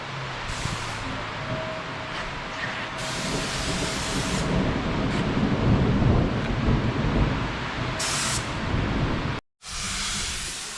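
Steady heavy rain with thunder hisses throughout, heard from a garage, with low rumbling underneath and bursts of brighter noise; no voices, and a brief dropout near the end.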